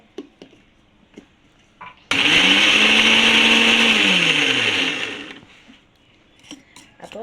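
An electric mixer grinder whirs loudly for about three seconds while crushing hot green chillies, then spins down, framed by faint kitchen clatter before and after.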